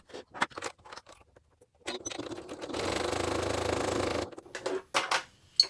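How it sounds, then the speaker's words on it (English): Sewing machine stitching a fabric lining seam for a small hand-gel pouch, one steady run of about a second and a half, close and moderately quiet, framed by handling clicks and rustles. "So I'm going to stitch from the bottom of the lining all the way up to the top, across and back down again"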